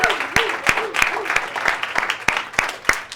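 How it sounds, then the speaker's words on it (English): An audience claps in a round of applause at a live speaking engagement, dense hand-claps with sharper claps standing out rhythmically over the crowd, steady and moderately loud for about three seconds. "let's just give yourself a round of applause"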